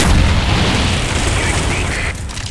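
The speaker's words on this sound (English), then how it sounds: "Napalm strike coming in." A napalm strike in Call of Duty: Black Ops, a loud, deep, roaring explosion that rumbles and burns on continuously, close and dense, slowly easing off toward the end.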